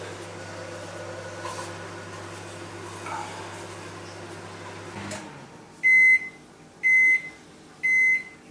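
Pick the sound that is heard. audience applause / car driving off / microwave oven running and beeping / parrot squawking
microwave oven running and beeping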